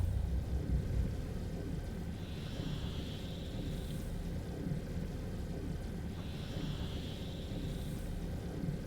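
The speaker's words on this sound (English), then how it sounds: "Warp engine activated." A warp engine hums steadily in the Dyson Sphere Program video game, a continuous low rumbling drone with two brief airy whooshing swells over nine seconds and no talk.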